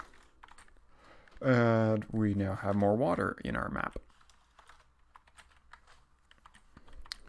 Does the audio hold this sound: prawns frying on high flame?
no